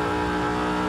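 In Forza Horizon 5, a BMW E92 M3 with a cam upgrade and twin turbos screams at high revs near 9,000 RPM, a loud, sustained, close engine wail.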